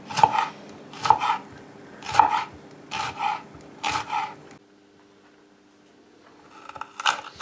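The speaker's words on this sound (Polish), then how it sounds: "Por jeszcze troszkę posiekam takim półokrągłym nożem." Leek whites finely chopped with a curved half-moon knife on a board, five rhythmic rocking chops about a second apart, close and crisp, then a pause before chopping resumes.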